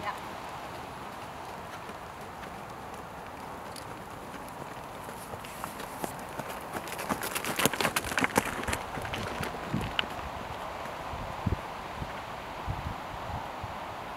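A horse trotting during a training session, its hoof beats giving a soft, rhythmic clip-clop under wind and rustling, with a voice talking over it.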